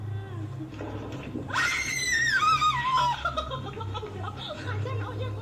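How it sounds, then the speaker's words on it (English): A girl's high, piercing scream rises sharply and trails off in a wavering wail, played back from a creepy video with a steady low hum underneath. "something startles the girl, who then runs screaming from the room"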